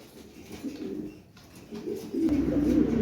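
A male pigeon coos beside its mate sitting on eggs in a loft, the soft low rolling coos rising in two bursts and growing louder and closer toward the end.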